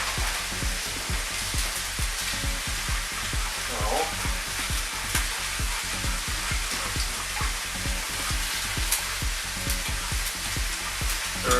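Vegan stir-fry sizzling and frying steadily in a pan with Thai coconut curry, a dense continuous crackle with faint stirring and occasional light clinks, no talking.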